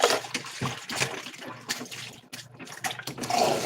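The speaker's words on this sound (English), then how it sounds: "put some hot steaming water on them" Hot steaming water runs from a tap onto non-stick pans in a kitchen sink, a close, uneven splashing and gushing that surges and dips.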